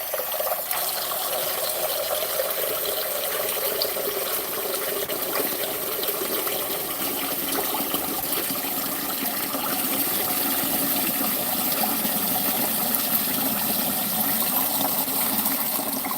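Water runs steadily from a cold kitchen tap while bread dough is being prepared, a continuous broadband gush that stays even and close throughout without talk.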